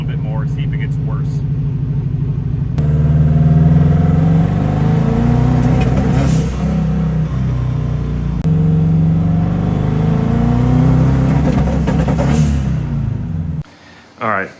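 A Volkswagen Beetle that is heat soaking while being driven, its engine rumbling steadily from inside the car with rising and falling revs as it accelerates and shifts. A voice talks over it at times.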